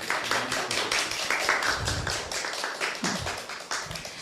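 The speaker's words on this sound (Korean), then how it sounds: "힘찬 박수 부탁드립니다." An audience at a startup meeting claps continuously and fairly loudly after a presidential candidate is introduced, a dense patter of many hands with no speech over it.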